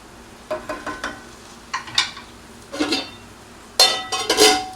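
Spinach stirred into egg pasta in a hot pan: several bursts of scraping and sizzling clatter come in uneven clusters, close and fairly loud, with quiet gaps between strokes.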